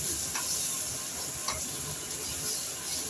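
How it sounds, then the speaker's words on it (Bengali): Boiled potatoes with turmeric frying in a pan make a dense, even sizzle, with a couple of soft stirring scrapes over the hiss. "তাও একটু নাড়াচাড়া করে দিচ্ছি। ভালো করে ভেজে নিচ্ছি।"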